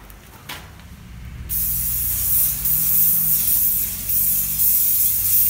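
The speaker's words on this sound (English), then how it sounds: "now we're going to give our mold a real generous coating of the silicone lubricant" Silicone lubricant sprayed from an aerosol can as a coating into a mold outdoors, a short hiss followed by a long, loud continuous spray.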